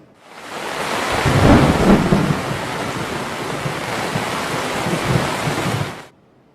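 Heavy rain pours down during a storm in Gujarat, a dense, steady roar with deep rumbling thunder swelling early on, continuous for several seconds before cutting off abruptly, with no voices.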